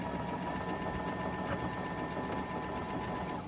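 A sewing machine runs continuously without its bobbin thread catching, a steady close mechanical whir and rattle with no pauses or talk.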